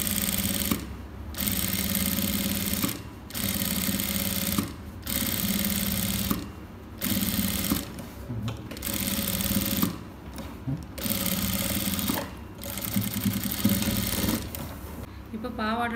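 A sewing machine stitches a silk pattu pavadai skirt in steady runs, stopping briefly about every two seconds before whirring on again, close and continuous.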